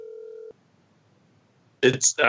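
A phone call placed over Skype from a mobile phone: a steady electronic ring tone sounds briefly, then silence, then loud bursts of a voice answering close by.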